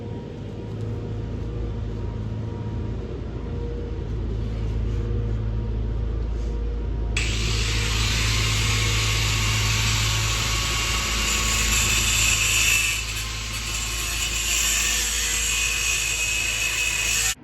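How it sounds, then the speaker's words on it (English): Angle grinder working tough steel for a Jeep Wrangler YJ bumper, a steady loud motor drone that bites into metal about halfway through, turning into a harsh continuous hiss of grinding that holds to the end. "So let's get back to grinding."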